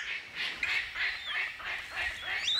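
A palm cockatoo, an ancient Australian rainforest parrot, calls in a repeated series of nasal, honking notes, about half a dozen in an even rhythm, fairly close and clear over faint background.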